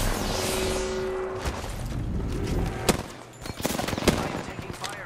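Rapid automatic gunfire in the Apex Legends shooter game, dense bursts of shots with a few sharp cracks and impacts, loud and close against a busy game background.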